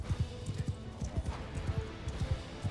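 Horse hooves from Mount & Blade 2: Bannerlord clop in a quick, repeated rhythm, fairly near and clear, with faint battle ambience behind them.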